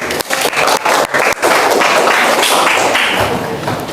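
Students applauding together in a classroom, a dense run of clapping that starts with a few scattered hand claps and thumps, then swells into steady, loud group applause that holds to the end.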